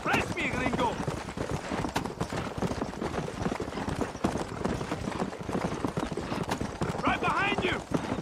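A horse gallops in the Red Dead Redemption video game, with a steady, loud clip-clop of hooves running throughout and brief whinnies near the start and end, under bursts of talk.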